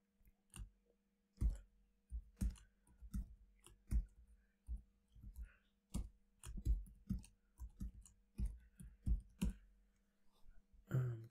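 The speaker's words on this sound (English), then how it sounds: "So let's just type this in here." Password typed on a keyboard while setting up an Umbrel Home mini PC: quiet, close, irregular key clicks in short bunches with small gaps between them.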